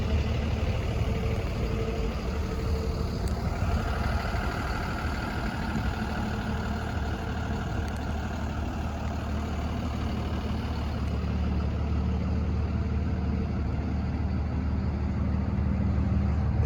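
A 2019 Freightliner M2 box truck with a 6.7-liter six-cylinder Cummins diesel idles steadily nearby, a constant low engine rumble with no talking.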